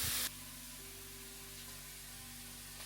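Onions and green chillies sautéing in a pan give off a steady, soft sizzle with a faint low hum beneath, after a brief louder burst at the start.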